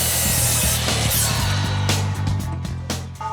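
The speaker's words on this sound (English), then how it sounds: "Take that up and cut myself a starter strip." A handsaw cuts a wooden starter strip during a home renovation, rapid rasping strokes close and loud, with several sharp scraping pulls near the end and no talk.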